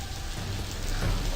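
Rain in The Blackwell Convergence video game falls as a steady, even hiss of drops hitting surfaces, continuous and close for a brief moment.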